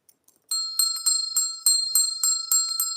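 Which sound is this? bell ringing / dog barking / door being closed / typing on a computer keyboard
bell ringing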